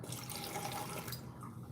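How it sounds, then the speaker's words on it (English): A cup of water pours steadily, a faint continuous splashing trickle that ends abruptly, quiet and close. "where I'm adding a cup of water here."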